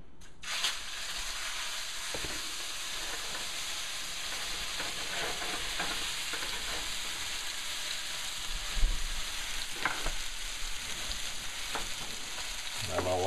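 Ono fillet searing in a preheated pan over medium to medium-high heat, a steady close sizzle and crackle running throughout with occasional sharper pops and spatters.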